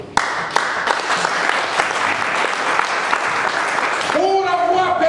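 A church congregation bursts into loud, sustained applause that starts sharply and keeps up as dense clapping, with a voice rising over it near the end.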